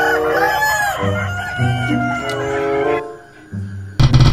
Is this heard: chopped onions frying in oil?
no